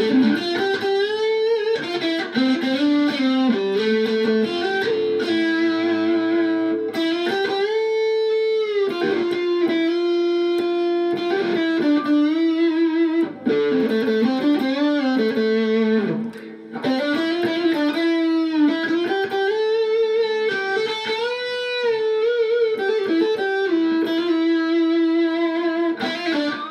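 Mosrite-style IYV SMR200 electric guitar played through a filter effect, a continuous sustained melodic line with shifting, swept tone, loud and close, no talking.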